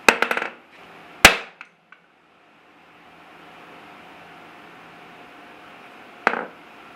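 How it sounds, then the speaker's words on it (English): Sledgehammer blow on a large steel anvil, one sharp ringing clang followed by a faint lingering ring, then a second lighter strike a few seconds later, close and loud. "I'm going to do the same strike I just did on the Vevor on this anvil with the sledgehammer."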